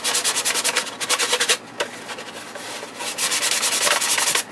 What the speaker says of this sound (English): we want to do is just rough up the surface so the primer sticks